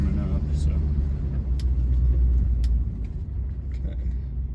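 A warming-up Mercury Marquis car engine is given a little gas, a loud low rumble that swells and then eases off, heard from inside the car with a person talking over it.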